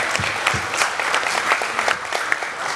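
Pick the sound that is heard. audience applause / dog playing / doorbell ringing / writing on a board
audience applause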